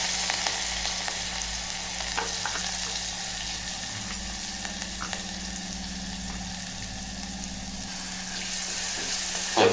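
Cumin, mustard seeds and chopped green chilli frying in oil for a fenugreek and dill greens dish, giving a constant close crackling sizzle with occasional faint stirring, no voices.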